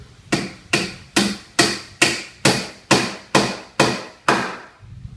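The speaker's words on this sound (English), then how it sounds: "What I've decided to do is to nail the slat into the dowel, so each one will be secured." Nails are hammered through a wooden garden bench slat into a dowel. Ten sharp, evenly spaced blows ring out close and loud at a steady rhythm, with no talking.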